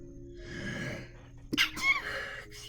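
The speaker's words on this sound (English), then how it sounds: "And I'm gonna sneeze." A single sharp sneeze bursts out close by over a quiet room during a craft session decorating a bee journal, followed by a brief breathy tail.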